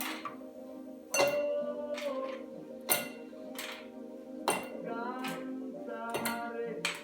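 Ice cubes drop one by one into a glass while a spritzer is being made, giving bright, ringing clinks at irregular intervals, close and clear against a quiet room.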